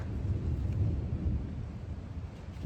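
Thunder from lightning in an approaching storm, heard outdoors on a mule ride as a deep, continuous low rumble that swells and slowly fades, with no voices.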